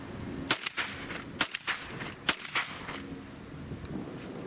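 Several 20 gauge shotgun shots from Mossberg, Browning and Benelli guns fired outdoors, sharp cracks spaced about a second apart over steady wind noise, moderately distant, with no talking.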